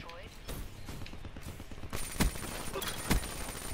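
Gunfire rattles in a shooter video game, with a steady dense background of shots and a few sharp, louder reports standing out near the end, while a voice talks faintly underneath.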